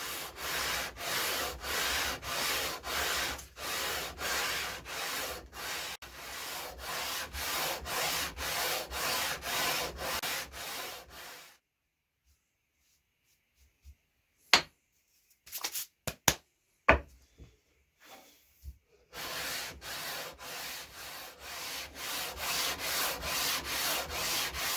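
Rhythmic back-and-forth sanding of a wooden guitar fretboard for a neck-through build, shaping its radius with a sanding block; steady rasping strokes run for about eleven seconds, stop for a stretch of near silence with a few sharp knocks, then resume.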